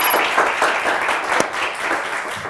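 Studio audience on a Turkish word game show breaks into sustained applause, a dense wash of clapping that holds steady for the whole stretch with no talk over it.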